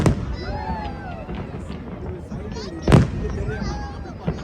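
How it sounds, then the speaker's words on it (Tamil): Fireworks burst at Al Seef, Dubai, during the national day holiday, with one loud near bang amid scattered fainter pops, while people talk and a crowd murmurs throughout. "வெடிலாம் ஆரம்பிச்சிட்டாங்க."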